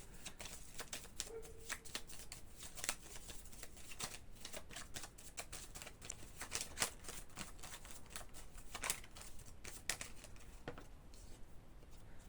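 Tarot cards being shuffled and drawn at close range, a quiet run of crisp rustles and taps in uneven bursts against a soft background hiss, with no talk.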